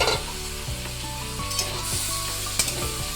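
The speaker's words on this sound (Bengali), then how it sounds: "এবার দিয়ে দেবো ম্যারিনেট করা চিকেনটা।" Marinated chicken sizzling loudly among frying onions in a pan, with a bright, continuous hiss and crackle and repeated scraping strokes as it is stirred.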